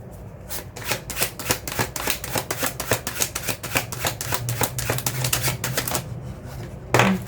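Rapid riffle-shuffling of a tarot deck, a steady run of crisp flutters for several seconds, close up, ending with a soft tap.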